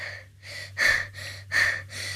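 Heavy, rhythmic panting close up after running, quick breaths in and out, a few louder gasps among them.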